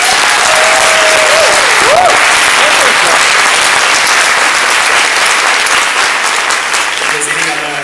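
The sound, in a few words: applause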